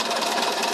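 A sewing machine stitches a fabric pouch in a short, steady whirring run of rapid needle strokes, heard on its own at close range.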